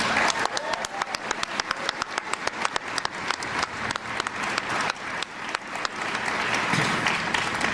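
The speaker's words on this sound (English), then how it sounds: "Give them a big round of applause" A crowd applauds steadily throughout at Soldier Ride DC, a public tribute event honoring wounded warriors: dense, sustained clapping with sharp individual claps standing out near the front, continuous from start to finish.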